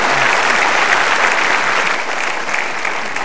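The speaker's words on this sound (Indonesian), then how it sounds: "Sekali lagi tepuk tangan" A loud, full ovation from a large audience at an Indonesian stage event honoring guests, thick continuous clapping sustained evenly throughout.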